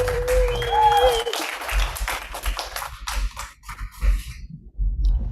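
An audience claps in a burst of applause after a klezmer band performance, fading into scattered claps, with a lingering tone and some voices early on.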